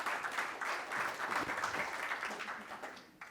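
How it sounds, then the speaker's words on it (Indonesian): Audience applause at an Indonesian advocate swearing-in ceremony in Jakarta, steady hall-wide clapping that fades slightly toward the end. "Kita berikan aplaus dulu yang meriah."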